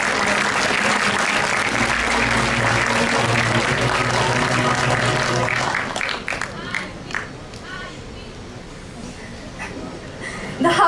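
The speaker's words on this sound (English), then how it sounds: "Let us have some energetic clapping for them" An audience at a Model UN opening ceremony claps energetically in a loud, sustained burst that thins out about halfway, leaving scattered claps and room murmur.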